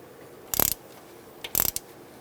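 A hand ratchet clicks in two quick bursts, close and distinct, while bolts are tightened on an EGR valve of a 1999-2006 Chevrolet Silverado 1500.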